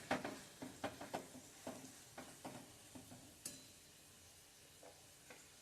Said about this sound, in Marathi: लसूण, आलं, कोथिंबिरीच्या काड्या, मिरची हे सगळं परतून घेतलं आणि मग डाळ घातलं